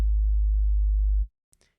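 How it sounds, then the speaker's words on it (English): A pure, deep sine wave tone from the first oscillator of the Vital synthesizer hums steadily for just over a second, then stops abruptly. A couple of faint clicks follow in near silence. "First, we're going to add a sine wave on oscillator 1."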